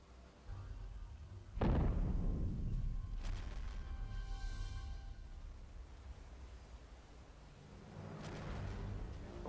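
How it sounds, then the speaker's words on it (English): In the Men of War: Assault Squad game, an artillery strike lands as one heavy boom with a long rumbling tail, then fainter distant rumbles and a later rolling blast, all fairly muffled and without talk. "Artillery's inbound."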